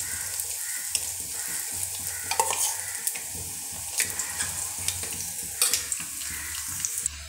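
Boiled eggs frying one at a time in hot oil in a pan for egg masala, giving a steady close sizzle broken by a few sharp clinks and spatters, with no talking.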